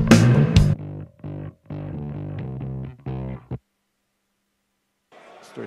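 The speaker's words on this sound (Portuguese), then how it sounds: "Esse é o som do baixo limpo." A clean, undistorted bass guitar plays a short run of plucked notes, each round and sustained, alone in a demonstration setting, followed by silence and a faint later sound.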